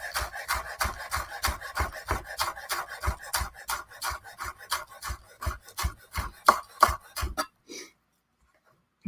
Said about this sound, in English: these scallions are gonna work out for us. Just gonna chop some of those